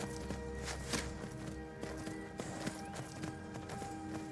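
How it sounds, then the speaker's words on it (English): Horse hooves in Skyrim Anniversary Edition plod along at a slow trudge, a steady, fairly quiet clip-clop of irregular steps over a low ambient game background. "The horse is just slowly trudging up to them."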